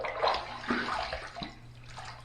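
Tap water runs steadily into a basin for a rinse after a shave with a Simpson Trafalgar T2 synthetic brush, a close, continuous splashing wash with small surges and no talking.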